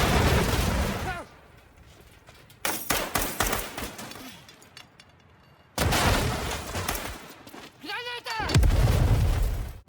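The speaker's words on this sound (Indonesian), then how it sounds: "Alhasil, baku tembak pun terjadi antara Yas dengan Samidi." Bursts of gunfire and heavy thuds from a gunfight in the action film Extraction 3, loud and dense in clusters with quieter gaps, mixed with film score and effects.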